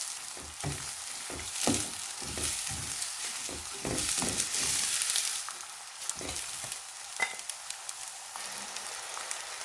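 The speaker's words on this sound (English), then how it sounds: "add the onions in. And we're just going to cook these until they slightly change colour." Chopped onions sizzle in hot oil in a pan for a minced lamb and potato curry, with a steady crackling fry broken by louder spits and pops, close and moderately loud, and no talking.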